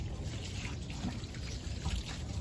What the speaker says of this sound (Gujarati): પાણી ભરવાનું ચાલુ